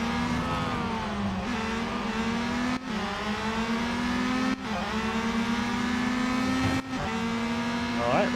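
The Peugeot 9X8 race car engine in Real Racing 3 howls loudly and continuously, climbing in pitch through each gear and dropping sharply at about three upshifts, close and prominent throughout.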